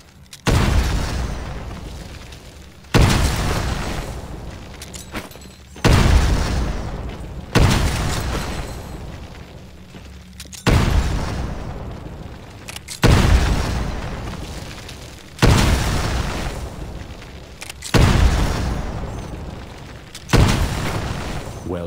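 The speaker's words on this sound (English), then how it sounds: "Time for some frag fun. Throw a grenade into each of the windows." Grenade explosions in the Titanfall video game, set on a training range where grenades are thrown into windows: about nine loud, sharp blasts arrive at a steady pace roughly every two to three seconds, each trailing off in a rumbling decay.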